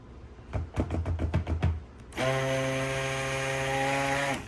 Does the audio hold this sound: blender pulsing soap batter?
yes